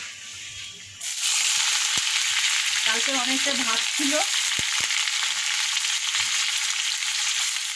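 Onion frying in oil with dried red chilli and nigella seeds in a wok, a loud sizzle bursting in as the onion is added and hissing steadily, with a brief voice speaking.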